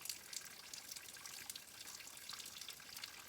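A small waterfall beside a trail trickles in a steady, faint, hissing splash with no pauses and no voices.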